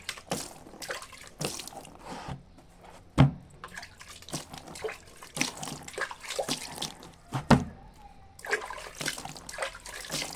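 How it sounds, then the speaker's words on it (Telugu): Water splashes and sloshes in uneven bursts, with sharp knocks and gurgles as it is poured over coco peat to soak, fairly close and irregular. "ఇలా వాటర్ పోసి నానబెట్టాలి"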